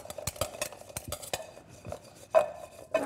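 Turnips tossed with olive oil, salt and pepper in a bowl, giving irregular close clinks and scraping knocks of a utensil against the bowl, sparse and fairly quiet, with no voices.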